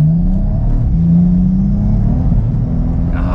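A BMW fitted with a DCT gearbox swap and a single mass flywheel accelerates on a wet road, its engine note rising steadily as a loud, close, continuous rumble with no talking.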